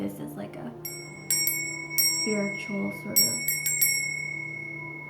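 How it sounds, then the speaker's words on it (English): A small bell, used in a cleansing ritual before a tarot reading, is rung several times, its bright sustained tones ringing out near and clear over and between a soft speaking voice. "I'm just going to clear out the air with this bell."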